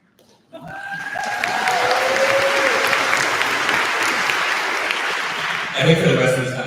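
A live audience at an on-stage conversation in Philadelphia breaks into sustained applause, starting abruptly after a moment of quiet and holding as a steady, full wash of clapping before a voice cuts in near the end.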